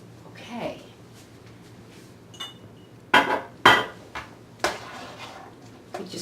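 Metal utensil clinking and scraping against a bowl while gazpacho ingredients are stirred, several sharp knocks over about three seconds, fairly close and moderately loud, with a few softer taps around them.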